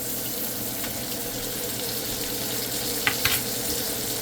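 Steak frying in brown butter with thyme, a steady close sizzle and crackle running throughout, with a couple of brief louder spits or utensil taps near the end; no talking.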